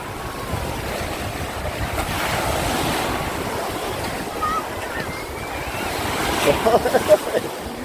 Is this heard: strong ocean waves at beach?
yes